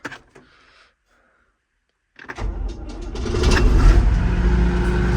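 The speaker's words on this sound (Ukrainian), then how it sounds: "Так, ну що ж, запустимо його." A 1991 Claas Dominator 68s combine harvester engine cranks after a brief quiet pause, catches quickly and settles into a loud, steady rumbling idle.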